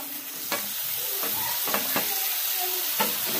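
Chopped tomatoes sauté with browned onion in a pan, a steady close sizzle broken by several sharp scrapes and clatters of a spoon stirring them.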